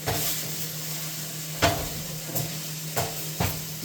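Rice sautéing in a pan for Mexican rice: a steady bright sizzle and hiss with a few soft knocks of a stirring utensil, close and continuous with no voices.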